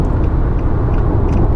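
A 2015 Nissan Sentra SV runs under full throttle at highway speed, a loud, steady engine drone with broad road and wind roar filling the cabin, no voices.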